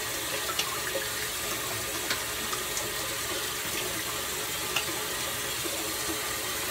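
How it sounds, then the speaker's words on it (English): A bathroom sink tap runs cold water for rinsing after a straight razor wet shave, a steady, fairly quiet hiss and splash with a few faint clinks, no talking. "rinse with cold water"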